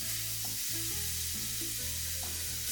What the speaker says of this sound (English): Get it sizzling and move the meat around in the pan